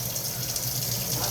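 Tap water running into a pan for cooking a Thanksgiving turkey, a steady close hissing gush throughout the short stretch.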